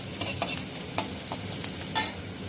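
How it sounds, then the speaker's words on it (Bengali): Mixed winter vegetables stir-frying in a pan, a constant soft sizzle broken by regular clicks and scrapes of a spoon turning them. "সবজিগুলো প্রায় ভাজা ভাজা হয়ে এসেছে সবজিগুলো।"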